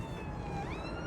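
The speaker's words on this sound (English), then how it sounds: "A police car going down the road." A police car siren wails along a road, a steady rising and falling tone at moderate distance over low traffic rumble, brief and continuous.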